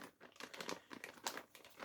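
A cellophane bag holding a Melodiya FM radio receiver kit crinkles and rustles up close in continuous, uneven handling.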